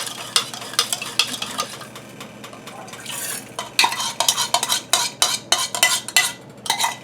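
Sugar, rice vinegar and salt swirled in a pan over low heat, with a stream of close, rhythmic scraping and clinking stir strokes over a light sizzle, no talk.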